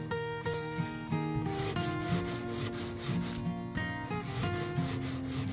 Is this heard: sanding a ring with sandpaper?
yes